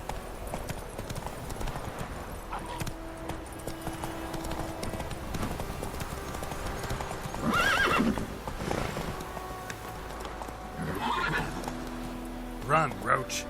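Horse hooves clip-clop at a steady run through The Witcher 3 on PS4, with whinnies breaking in near the middle and end, while characters talk over the steady game backdrop.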